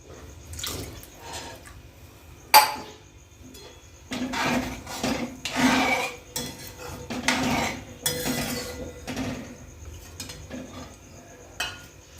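Water poured into a pan for making Maggi noodles in a home kitchen, coming as several splashing, clattering bursts with pan and utensil knocks between them; no talk.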